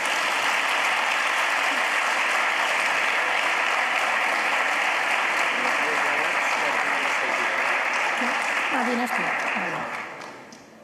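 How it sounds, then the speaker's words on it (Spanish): Sustained audience applause at an awards presentation, dense clapping that fills the room for about ten seconds before fading, with a voice briefly rising near the end. "Un aplauso para ella, por favor."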